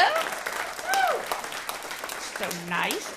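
Audience applause and crowd noise at a comedy show, heard loosely behind the comedian's voice, which dominates with laughing, rising speech.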